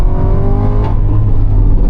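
A modified Cadillac CT5-V Blackwing with a Magnuson supercharger pulls hard in first gear in race mode, a loud, steady engine roar with rising harmonics and whine heard from inside the car, with no talk.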